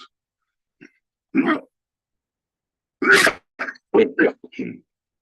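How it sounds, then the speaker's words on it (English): A few short, sharp coughing bursts close by, one early and then a quick cluster of three or four, separated by silence. "sorry, got bad cough"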